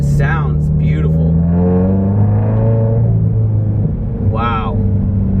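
A slammed Subaru BRZ engine rumbles low and steady while driving, its pitch rising and falling slightly, with people talking over it throughout.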